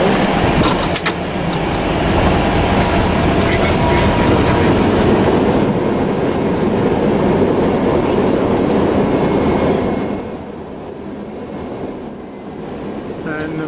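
An Airbus A320 lands with reverse thrust, recorded in the cockpit: a loud, broad roar holds for about ten seconds, then drops to a quieter rumble.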